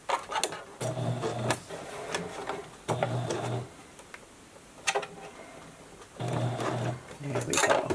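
Short bursts of a sewing machine finishing a fabric face mask, several separate runs broken by pauses with soft handling clicks and fabric rustle.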